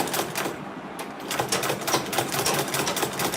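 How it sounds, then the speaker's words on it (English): A sewing machine stitches along a marked line on an Ankara fabric tote bag, a fast, close, rattling run of needle strokes that continues steadily without any talking. "So I'm just sewing on that line."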